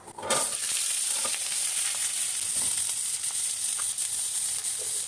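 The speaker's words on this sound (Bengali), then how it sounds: "এখন তেল দিয়ে দিচ্ছি আলুগুলো আগে ভেজে নেব" Steady sizzling of potatoes frying in hot oil in a kadai, a continuous bright hiss with faint clinks, no talking.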